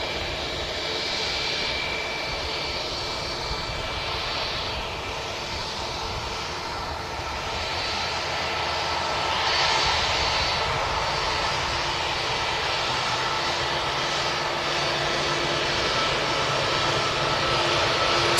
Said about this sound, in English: A321 heading back out to Istanbul.